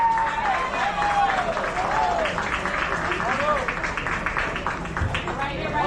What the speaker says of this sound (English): A lot of cheering going on the field behind us.